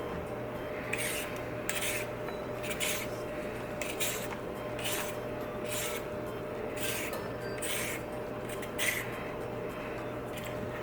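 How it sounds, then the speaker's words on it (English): Carrots are scraped with a vegetable peeler in a kitchen, producing soft rhythmic rasping strokes repeated about a dozen times at an even pace, close and fairly quiet over a low steady hum. "Okay, so I have all of my peeled carrots."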